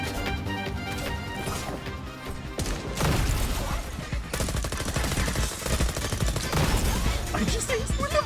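Rapid gunfire and impacts in a first-person shooter video game, dense bursts that get louder after the first few seconds, with a voice talking over parts of it.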